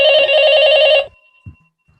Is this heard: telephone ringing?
yes